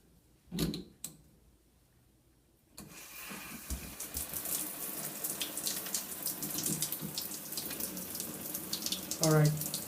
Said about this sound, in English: there was some more water left in the piping, so I guess that's just flowing out.